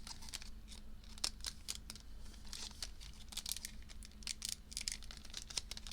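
A Magic: The Gathering Secret Lair package is torn open by hand, giving quiet, close crinkling and ripping of the packaging in quick irregular bursts.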